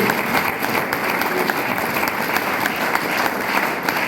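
A church congregation breaks into steady, continuous applause, many hands clapping together at an even, lively level with no pauses.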